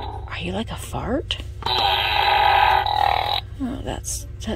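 A novelty talking toy lets out a long raspy, fart-like buzzing noise in the middle, with a person talking before and after it.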